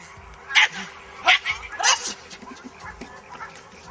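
A bull terrier playing in water gives several sharp, high yelps and barks in quick bursts, with soft splashing and whimpering between them.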